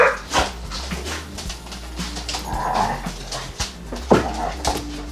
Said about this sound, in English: the Tinker dogs are a little bit bored and wrestling in the house